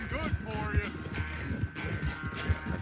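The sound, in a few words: horse hooves in Red Dead Redemption 2 video game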